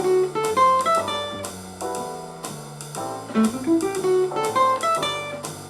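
Jazz guitar plays a lick alone, a quick run of single notes and chord stabs moving up and down the neck with clear, close tone and steady phrasing for several seconds.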